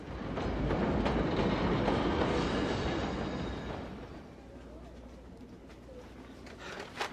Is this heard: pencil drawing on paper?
no